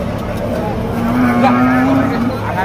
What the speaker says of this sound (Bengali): বেশ সুন্দর একটি সাইওয়াল ষাঁড় গরু।